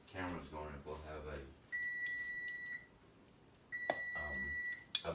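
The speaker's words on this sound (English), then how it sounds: "Our timer just went off, so we're going to turn that off for now." Kitchen timer beeping in a home kitchen, two bursts of rapid high electronic beeps about a second long each, separated by a pause, with people talking before and after.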